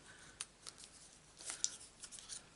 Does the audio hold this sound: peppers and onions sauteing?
no